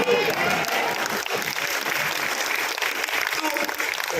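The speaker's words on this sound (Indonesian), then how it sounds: "Pakai tepuk tangan lagi." Congregation applauding at a Christmas church service, a dense, steady clapping that fills the whole stretch, loud and close, with voices faintly mixed in.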